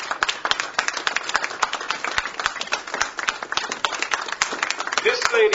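A Baltimore audience claps for former Georgia congresswoman Cynthia McKinney, a steady patter of individual hand claps spread through the room, fairly close and moderately loud, with voices murmuring underneath.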